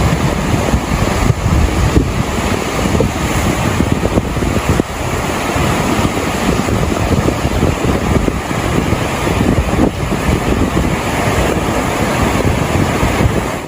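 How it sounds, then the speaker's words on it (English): Flash floodwater rushes down East 3rd Street in New Jersey, a loud, unbroken roar of churning water mixed with buffeting wind noise on the microphone, with no speech. "Look at this water coming down East 3rd."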